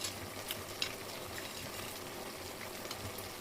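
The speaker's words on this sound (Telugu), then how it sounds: "దీనికి వేయాల్సినటువంటి మసాలా నేతిలోనే వేయించుకోవాలండి." Spice masala for chicken biryani fries in ghee with a steady, dense sizzle and occasional stirring scrapes, continuous and close throughout.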